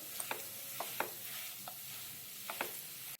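Finely chopped coriander being mixed into potato vada stuffing: several soft, irregular spoon scrapes and stirring strokes against a pan, quiet and close, with no talk.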